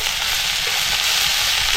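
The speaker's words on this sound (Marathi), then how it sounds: "आणि हा कांदा आपल्याला असा नरम करून घ्यायचा." Onion sizzles and softens in a pan for fenugreek (methi) bhaji, a steady close hiss of frying oil with faint stirring, no voices.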